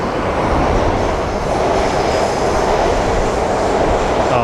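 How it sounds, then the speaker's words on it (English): A train rolling nearby at night, a loud steady rumble of wheels on rails with rattling carriages, continuous and close throughout without any voices. "I hear the train a-coming."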